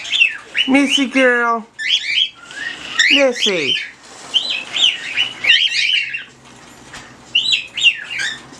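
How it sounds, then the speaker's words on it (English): Several pet birds squawk and chirp excitedly before a storm, with shrill whistles and harsh squawks in quick, irregular bursts close by, and a person talks softly to them in between. "And you birds know there's a storm coming?"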